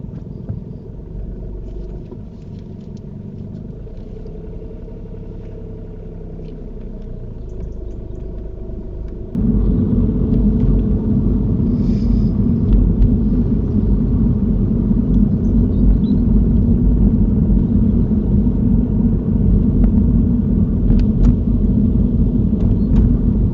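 A car leaves a car park during a mock driving test, its engine giving a steady low rumble that steps up and grows louder partway through, heard from inside with no talking.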